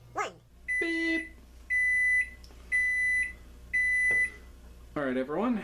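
A kitchen timer on a stovetop pasta boil for Cheetos mac and cheese sounds four evenly spaced, sustained electronic beeps, clear and close, with voices briefly heard at the start and end.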